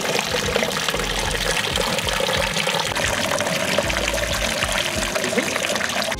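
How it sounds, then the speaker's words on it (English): Water pours steadily into a newly set up Red Sea Peninsula reef aquarium as the tank fills toward its overflow, a continuous close splashing trickle without talk. "now we're pretty much just waiting for the water to reach the overflow"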